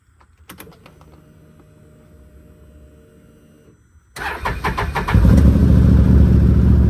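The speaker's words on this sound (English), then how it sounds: "Damn, that cold start." A quiet stretch with faint clicks, then a 2022 Ford Mustang GT engine cold-starts loudly and roars into a strong, sustained high idle.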